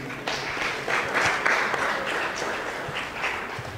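An audience at a Bargny ceremony for top baccalaureate students applauds the prize winners, a continuous swell of many people clapping together, loud and evenly spread with slight surges in intensity.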